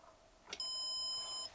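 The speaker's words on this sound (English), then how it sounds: "There we go, we're getting a little alarm" A Junctek KH140F battery monitor alarm: a short relay click, then a single sustained electronic beep for about a second, high-pitched and steady, fairly quiet against faint background noise.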